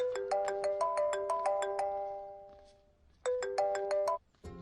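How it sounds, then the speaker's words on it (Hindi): A mobile phone ringtone plays a bright, melodic chiming tune in two bursts separated by a brief pause, loud and close in an otherwise quiet room. "भैया, आपको किसी का फोन आ रहा है।"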